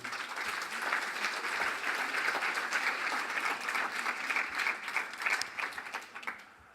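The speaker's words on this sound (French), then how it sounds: "je crois qu'on peut l'applaudir" Sustained, steady applause from a studio audience welcoming a pastry chef onto a French cooking show, loud and dense throughout before tapering off at the end.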